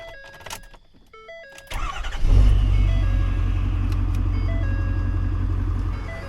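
A truck that was bought at auction as inoperable starts up with a trailer hooked on, then settles into a steady, loud idle that rumbles on without a break while it warms up.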